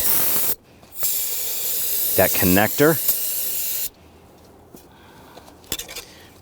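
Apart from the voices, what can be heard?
spraying solvent from a can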